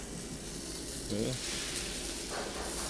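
Beef for a Thai beef salad sizzling in a hot pan, a steady close frying hiss throughout with brief faint voice sounds over it.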